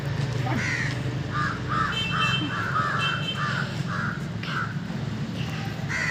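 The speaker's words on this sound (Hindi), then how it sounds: "कौवे देख रहे हो?" Crows caw in a rapid run of about ten harsh calls over a steady low hum on a foggy morning, fairly close and loud, with no talking.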